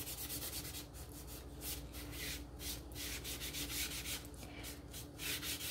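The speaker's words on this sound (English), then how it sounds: "give it a dip in the stain, and then I like to turn it sideways and just wipe it on." Foam brush wiping wood stain along a wooden farmhouse windmill shelf sitter, a soft, steady rubbing swish repeating in close strokes, quiet and alone without talk.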